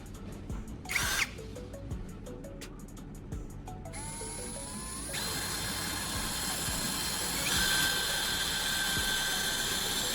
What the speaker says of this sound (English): drill a hole through it, making sure it's perfectly aligned